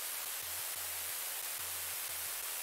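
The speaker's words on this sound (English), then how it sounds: "I went ahead and made some noise in 3x oscillator, and then I have it playing basically the same notes" A white noise synth layer from FL Studio's 3x Osc plays notes as a steady hiss, with soft low pitched steps rising and falling underneath in a rhythmic pattern, fairly quiet.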